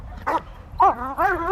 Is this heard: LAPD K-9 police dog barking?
yes